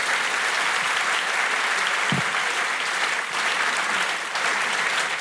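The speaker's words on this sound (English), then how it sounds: "And now you can applaud" Sustained audience applause, thick and even throughout, many hands clapping at once with no talking over it.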